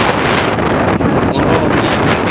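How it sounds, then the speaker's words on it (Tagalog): Strong typhoon wind by the sea at Ozamiz blasts across the microphone in a continuous heavy rush, with faint surf underneath and no speech. "Ang hangin."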